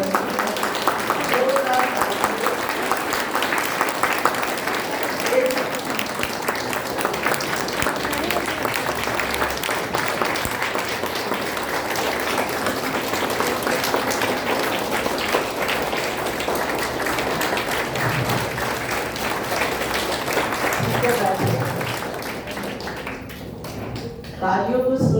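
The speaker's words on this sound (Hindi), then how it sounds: "तालियों को सुनकर बहुत अच्छा लगा" A large audience at a morning discourse session of an annual festival claps in long, dense, sustained applause that continues for more than twenty seconds before tapering off near the end.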